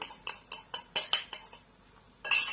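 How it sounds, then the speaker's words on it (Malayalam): Egg being scrambled in a pan for egg parotta: a utensil scrapes and taps metal in quick, irregular clinks, a dozen or so close knocks and scrapes with a short pause before a final flurry, no voice. "എന്നിട്ട് ഈ മുട്ട നമ്മളൊന്ന് ചിക്കി പൊരിച്ചെടുക്കണം."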